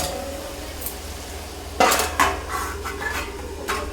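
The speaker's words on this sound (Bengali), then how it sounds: "কড়াইতে একটা ঢাকা দিয়ে দিচ্ছি চাপা।" A metal lid clanks onto a wok of bottle gourd curry, a sharp clatter followed by a few smaller knocks and rattles as it settles, over a quiet background hum.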